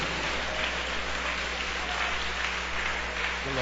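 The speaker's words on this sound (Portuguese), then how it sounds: "batam palmas e glorifiquem ao Senhor" A church congregation claps hands together in a dense, continuous wash of applause that stays steady and fairly loud, with a low hum beneath.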